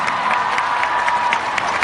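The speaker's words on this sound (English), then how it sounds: "let's give them a round of applause" An audience at a Now United wellbeing event bursts into steady applause and cheering, a dense crowd wash of clapping that carries through the whole moment without talk.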